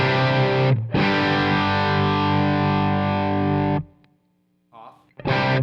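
Electric guitar through a switched-on Vertex Boost pedal into overdrive: a loud, thick distorted chord rings for several seconds, cuts out, a faint short note follows, and then another heavy chord crashes back in.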